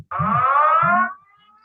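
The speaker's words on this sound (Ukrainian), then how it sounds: "Повітряна тривога. Пройдіть найближче укриття." An air raid alert sounds as a single loud, near, steady electronic tone lasting about a second before cutting off to a faint trailing hum.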